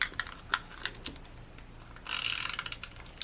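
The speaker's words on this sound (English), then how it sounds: "let's grab my tape runner" A tape runner dispensing adhesive tape onto paper, clicking ratchety ticks followed by a short brighter scraping rasp, close and quiet with no speech.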